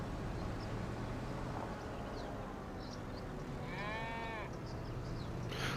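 A sheep bleats once from the middle distance in the Farming Simulator 25 video game, a short wavering call heard over a constant loud hiss of ambient game noise.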